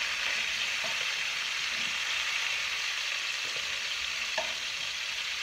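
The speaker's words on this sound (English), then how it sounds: "toss them in with that remaining oil. Take them, stir them around a little bit." Venison pieces frying in hot oil in a pan, heard as a steady, loud, hissing sizzle with occasional scraping stirs and light clicks, close up and without talking.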